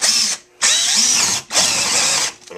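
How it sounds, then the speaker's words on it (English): A power drill drives a paddle bit down into layered plywood, marking spots for carriage bolts. It sounds in three loud, close whining bursts separated by short silences. "I'm going to drill down."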